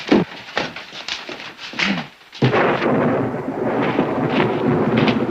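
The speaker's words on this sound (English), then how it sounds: "Wrong time of the year for a storm." Thunder from a storm, loud sharp cracks and booms in the first two seconds, a brief pause, then a sustained heavy rumble rolling on, with no voices.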